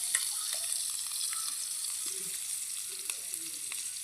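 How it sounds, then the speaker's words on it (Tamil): Mustard seeds and curry leaves sizzle steadily in hot oil for a Tamil Aadi Velli dish, a constant close hiss with a few faint pops and crackles and no talking. "கடுகு வச்சுட்டு கருவேப்பிலை போட்டுருவோம்"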